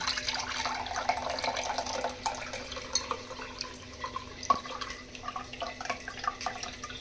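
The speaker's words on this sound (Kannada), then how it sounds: "ಒಂದು ಗ್ಲಾಸ್ ಆಗೋಷ್ಟು ನೀರು ಹಾಕ್ಕೊಂಡು ಚೆನ್ನಾಗಿ ಶೋಧಿಸ್ಕೊತಾ ಇದ್ದೀನಿ" Blended banana stem juice mixed with water trickles and drips through a strainer, soft and close, with small irregular splashes and taps.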